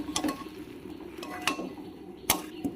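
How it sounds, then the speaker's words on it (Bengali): Fried potatoes and soybean chunks tipped into a pan of sautéed masala, with a few sharp clinks of a spoon against the pan and soft stirring scrapes over a faint sizzle. "এবার আমি ভেজে রাখা আলু আর সয়াবিনটাকে দিয়ে দেবো।"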